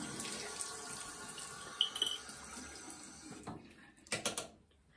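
A bathroom faucet runs steadily with water splashing as a face sponge is rinsed off under it, the flow broken by a few louder splashes near the end before fading away.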